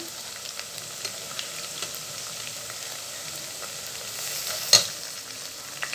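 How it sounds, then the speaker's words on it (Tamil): Green chillies, coriander and mint leaves sauté in a pan for mutton biryani, giving a soft, steady sizzle with light stirring scrapes and one sharp clatter partway through. No one speaks. "இது சேர்த்துட்டு இது கொஞ்சம் நேரம் வதக்கி கொடுக்கலாம்"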